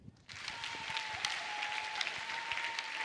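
A church congregation at a prayer mass claps and applauds steadily and loudly, a dense sustained burst of hand claps filling the space after a brief quieter moment.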